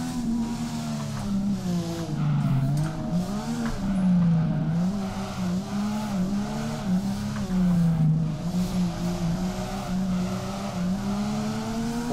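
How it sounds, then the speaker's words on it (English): A stock Nissan 350Z drifts in a figure-eight in the Drift21 video game, its engine droning and rising and falling in pitch while the tires squeal continuously through the turns. "we've got a little bit of a figure eight drift going on here now"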